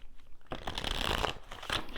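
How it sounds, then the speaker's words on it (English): Tarot cards riffled and shuffled close up in a quick flurry of papery flutters, starting after a short quiet moment, with no talking. "Let's give them a little shuffle here."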